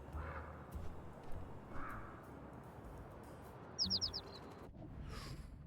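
Bird chirping in the Little Kitty Big City video game, a quick burst of bright tweets over a low park ambience, with a faint call or two elsewhere, quiet and short.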